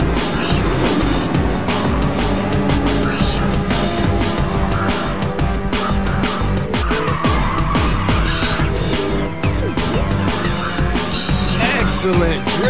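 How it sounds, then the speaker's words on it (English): Car drifting in the racing video game Ridge Racer 6, a sustained loud tire screech and skid over a roaring engine, dense and continuous throughout with game music underneath. "excellent drift"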